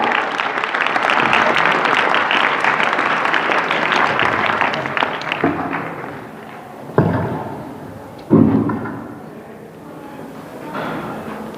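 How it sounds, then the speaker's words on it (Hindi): A school audience gives loud, dense applause as a motivational speaker is called onto the stage. The clapping fades after several seconds, and a couple of heavy thumps follow in a quieter room. "जोरदार तालियां हो जाए।"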